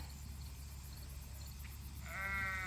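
Against a low, steady hum on a sheep farm, a single sheep lets out a short, faint bleat near the end, distant and thin.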